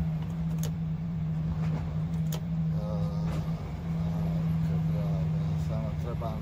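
Two semi-trucks rolling past on a road, a steady low engine drone with a sustained hum throughout, overlaid by scattered talk.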